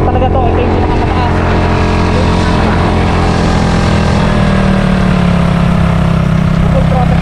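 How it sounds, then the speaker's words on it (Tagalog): A 2024 Honda Raider FI 150 fuel-injected motorcycle engine held at full throttle while climbing a steep uphill road, loud and constant throughout with heavy wind rush and a droning note, a voice speaking over it. "Ipo-full throttle natin guys ngayon. Kasi paahon talaga to."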